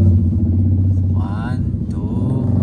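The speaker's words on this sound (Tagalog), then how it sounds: "Pakita niyo yung mga motor sa kanan." Heavy Philippine traffic rumbles steadily with low engine drone from cars and motorcycles nearby, while people talk over it.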